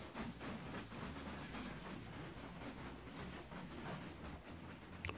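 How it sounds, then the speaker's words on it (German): A train rolls along rails in the railway-building game Mashinky, with a quiet rhythmic clickety-clack of wheels over track joints and a soft rumble, heard alone and ending in a sudden sharp noise. "bis der Zug raus ist."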